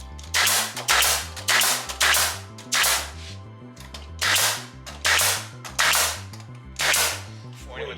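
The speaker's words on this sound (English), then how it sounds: "you do not frame with a 16 gauge nailer" A 16 gauge nailer fires repeatedly during small-scale framing of a game room, about ten sharp, loud, close pops spaced roughly a second apart, each with a compressor-like hiss and thump.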